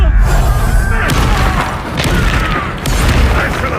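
Confringo fire-blast spell cast in the Hogwarts Legacy game: a loud booming burst with thuds and crashing debris, followed by further rumbling impacts, with a voice faintly present in the mix.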